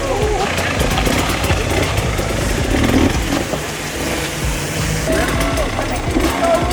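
Enduro motorcycles at the Tennessee Knockout extreme enduro race crawl over moss-covered rocks, their engines droning and revving steadily throughout, with crowd chatter and voices mixed in underneath.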